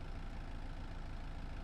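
A steady, low engine idle rumbles on without change, a Kubota tractor motor in Farming Simulator 22 ticking over evenly with no voices.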